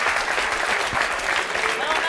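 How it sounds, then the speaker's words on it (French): Audience applause from a studio crowd, a dense, loud, continuous wash of clapping lasting a couple of seconds without pause. "il faut vraiment applaudir beaucoup plus fort que ça"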